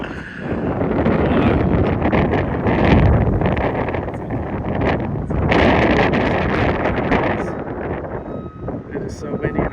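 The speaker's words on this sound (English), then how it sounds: "It is so windy in Hollywood." Strong wind gusting across an exposed hillside in Hollywood, a steady loud roar of wind buffeting the microphone with rustling throughout, swelling in gusts around the middle and again later.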